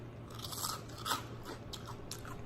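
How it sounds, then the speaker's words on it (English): Loud, crisp crunches from biting into a burnt, crispy toasted sandwich, with several crackling bursts in quick succession at close range. "Listen to that crisp. That is crispy."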